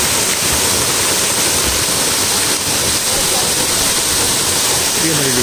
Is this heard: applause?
no